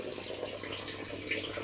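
Water pouring steadily into a newly built koi pond, a continuous close rushing hiss without a break and no voices over it.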